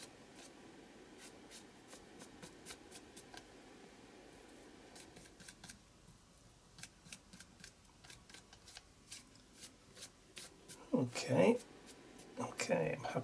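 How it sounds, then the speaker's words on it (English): A paint brush scrapes down across paper in soft, close dry strokes, repeated irregularly, with a voice speaking over the final seconds. "just scraping the brush down"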